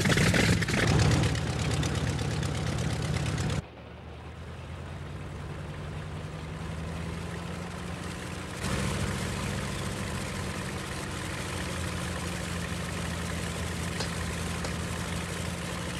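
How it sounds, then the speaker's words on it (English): A heavy engine cranks and catches, then settles into a steady, droning idle that shifts up a notch partway through and continues alone. "All right, start the engine."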